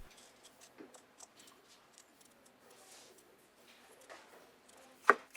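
Sparse, soft knife taps on a cutting board while cutting peeled potatoes into pieces, irregular and quiet, ending with a couple of sharper, louder chops.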